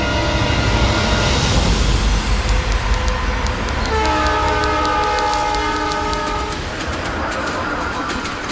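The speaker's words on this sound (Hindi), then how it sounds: "तुलसीगढ़ के लिए ट्रेन निकल गई है।" A passenger train pulls out of a station bound for Tulsigarh, with a sustained low rumble, a long horn or whistle tone in the middle and wheels clattering steadily on the rails, loud and close throughout.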